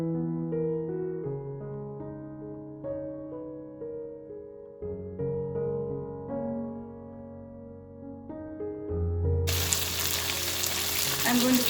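Chicken chilli hits the pan late, a sudden loud, close sizzle after a long stretch of melodic background music, then keeps frying steadily to the end.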